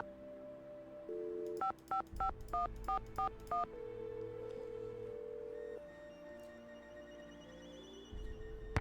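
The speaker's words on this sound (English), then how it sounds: "we need to call Franklin Rose" Phone keypad tones from a Nancy Drew mystery game, Secret of the Scarlet Hand: a quick run of about eight distinct dialing beeps in steady rhythm over a low background hum, followed by a sustained line tone.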